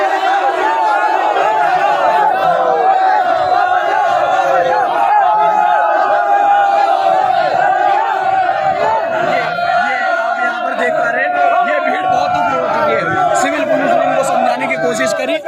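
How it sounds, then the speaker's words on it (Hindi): An agitated crowd shouts at police during a riot-control drill at the Agra police lines. Loud, overlapping angry voices and yells carry on without a break, close and dense, for the whole stretch. "ये भीड़ इतनी ज्यादा उग्र हो चुकी है"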